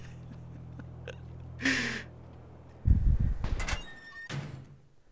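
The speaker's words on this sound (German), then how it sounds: "Welche Tür ging auf?" A door swings open inside a PUBG match, a brief mechanical sweep followed by a louder clattering burst and a short sliding scrape, heard without speech over a low steady in-game hum.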